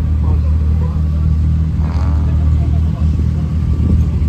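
Off-road rally car Simba pulling away at a trophy sprint event, a loud, steady low engine rumble close by with slight revving throughout.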